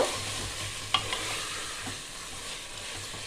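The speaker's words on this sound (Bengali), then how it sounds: "মটনটা আমি এবার 5 থেকে 10 মিনিট ভালো করে কষিয়ে নেব" Mutton sautéing in a pan for a yogurt mutton curry, a steady close hiss of sizzling with an occasional soft scrape or knock from stirring, continuous and even throughout.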